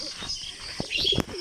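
Three pigeons flying together outdoors, heard as soft cooing and chirps with a few brief wing flaps, close and fairly quiet; no speech.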